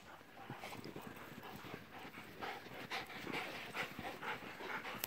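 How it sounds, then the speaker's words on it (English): Several dogs play together, including a Malinois, German Shorthaired Pointer, Border Collie and Boxer, with steady close panting, scuffling and soft whimpers throughout, no talk. "Playing with all the dogs."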